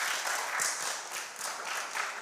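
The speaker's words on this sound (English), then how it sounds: "Please give her a round of applause." An audience at a school contest gives a steady, continuous round of applause, a dense wash of clapping with no voices above it.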